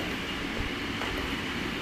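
Steady, loud rumble of a Chennai metro train running along the track, a continuous roar with faint rattling throughout and no voices.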